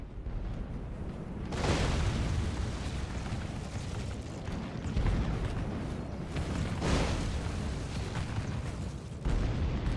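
Cannon fire from dwarf artillery batteries in the strategy game Total War: Warhammer, a loud, dense barrage of overlapping booms and blasts rolling on continuously with a few sharper surges, no talking.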